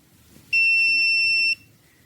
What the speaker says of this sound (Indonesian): Maka akan terdengar bunyi bip sebentar.